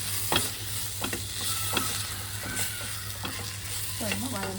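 Onions fry in a pan with ginger garlic paste for a mutton dum biriyani, giving a steady, close sizzle broken by scraping stirs from a spoon, with no talking.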